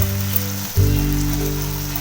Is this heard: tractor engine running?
no